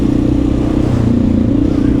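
A Honda XR650L single-cylinder motorcycle with a toned-down Lexx silencer exhaust, a loud close steady low thumping engine drone with a rapid even pulse and no clear revving.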